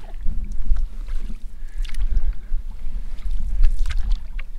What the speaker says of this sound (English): Chloe just gave me an awesome sweep splash